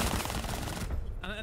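Rapid automatic gunfire in a Rainbow Six Siege esports match, a dense burst of close shots that cuts off abruptly near the end.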